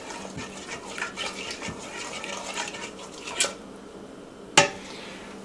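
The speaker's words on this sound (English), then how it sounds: "Mix it all together." A maple garlic marinade for pork is mixed in a bowl aboard a boat: soft wet stirring with light utensil clinks and two sharp knocks against the dish near the end.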